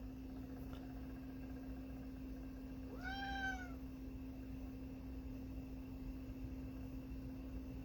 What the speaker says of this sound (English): That's my needy cat you hear in the background